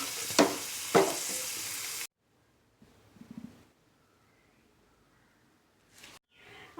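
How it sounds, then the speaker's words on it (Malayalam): Raisins frying and being stirred in a pan for mutton biryani, a bright sizzle with two sharp stirring scrapes, then quiet, a short stirring burst and brief sizzles again. "ഒന്ന് നിറം മാറി വരുമ്പോൾ ഇതിലേക്ക് മുന്തിരി ചേർത്ത് ഇളക്കാം"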